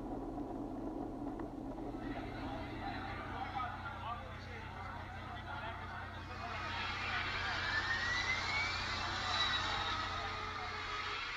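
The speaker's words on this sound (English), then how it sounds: "It's a plane!" A broad engine roar swells over the second half, growing louder as an aircraft closes in, with a faint rising whine and voices underneath.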